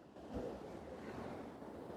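Surf of the East Sea off Korea's coast washes in as a steady, broad rush with wind noise across the microphone and one slightly stronger wave swell early on, no voices present.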